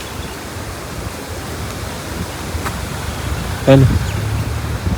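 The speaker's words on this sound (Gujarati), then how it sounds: "ખતરનાક પવન છે" Strong wind sweeps across an open outdoor spot on a sunny afternoon, a steady broadband rush that fills the whole stretch, with a voice briefly heard near the end.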